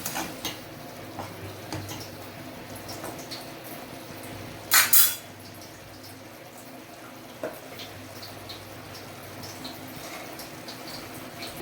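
A knife scores boiled eggs for egg gravy, heard as faint scraping against a quiet kitchen background, broken by one sharp metallic clink of cutlery on a dish and a softer tap later.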